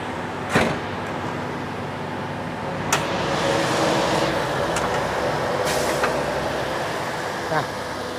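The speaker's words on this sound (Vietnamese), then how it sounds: "cục máy nó cực kỳ là êm nha bà con" A 2008 Toyota Innova's engine idling smoothly, a steady low hum close by, broken by a few sharp clicks and knocks, with no talk.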